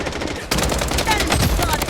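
Rapid automatic gunfire in the shooter video game Blood Strike hammers out in dense, loud bursts, with a brief lull before a sharp resumption. In-game voice callouts sound underneath.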